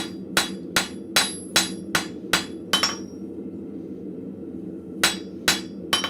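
A blacksmith hammers a hook on an anvil with sharp, ringing metal strikes, seven in a steady rhythm, then a brief pause and three more blows, with a low forge hum underneath.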